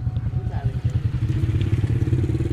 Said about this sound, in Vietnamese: Con này tiếng nổ như xe máy.